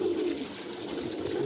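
A pigeon coos softly nearby, a low rolling throaty call that carries through the short moment against faint background hiss, with no voices.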